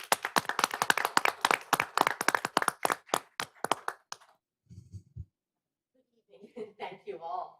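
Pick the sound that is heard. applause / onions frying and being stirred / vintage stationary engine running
applause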